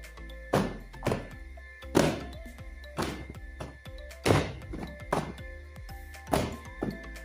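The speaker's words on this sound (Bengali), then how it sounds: "চারিদিকে শুধু বম ফুটানোর শব্দ পাওয়া যাইতেছে" Bombs or firecrackers bursting in the distance, a series of about seven separate muffled booming bangs, each trailing off, spaced irregularly a second or so apart.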